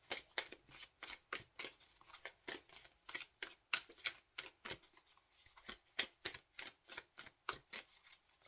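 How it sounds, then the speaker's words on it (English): Soul Coaching Oracle cards shuffled by hand, a quick run of crisp riffling snaps and flicks close up, repeating in an uneven rhythm with no talking. "Let's give these a good shuffle."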